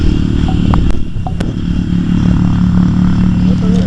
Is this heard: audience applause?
no